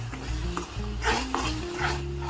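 Spices with rajma masala being stirred in a pan, a steady scrape of utensil against metal over a soft continuous sizzle, with a few brief clinks along the way.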